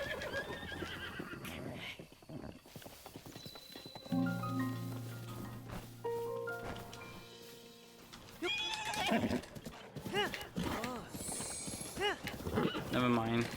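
A horse in the video game Zelda: Breath of the Wild neighs in several loud whinnies, with hooves clip-clopping between the calls and a person talking over parts of it.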